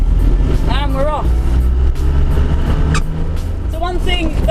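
Land Rover Defender 90 200Tdi with a steady, loud diesel engine drone while driving off road, and a person talking over it throughout.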